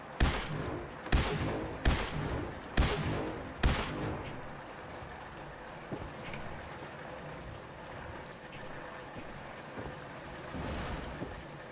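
Gunshots in Fallout 4 blasting lunchboxes open, five loud evenly spaced shots in the first few seconds, then quieter game ambience with faint clicks.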